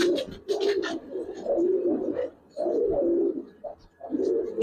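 Giribaz pigeons coo in a run of soft, throaty, rolling calls that come in several bursts with brief pauses, close by and fairly loud.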